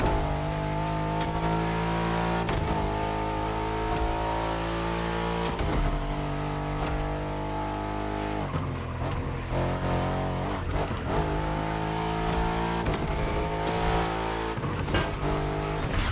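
A Mercedes-AMG GT63 engine drones and revs in the racing game The Crew Motorfest, a loud, continuous roar rising and falling through gear changes for the whole stretch, with no talking.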